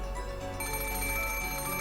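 Telephone ringing in the video game Umineko When They Cry: a steady electronic bell tone sets in partway through over a low background hum and keeps ringing continuously to the end.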